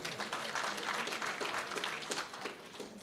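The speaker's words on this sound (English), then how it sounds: "Can we give him a very big round of applause?" An audience at a formal provincial education programme meeting applauds, a dense, steady clapping that holds for a few seconds and fades slightly toward the end.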